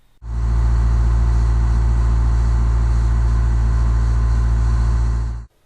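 A Cessna propeller engine running at 40% throttle in a flight simulator gives a steady, loud, even drone with a deep hum. It starts abruptly, holds constant, then cuts off sharply near the end, with no voices.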